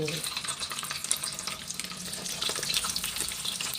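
Sun-dried fish, pla kui or red-belly fish, frying in hot oil in a pan, giving a steady close crackling sizzle with scattered pops, heard on its own.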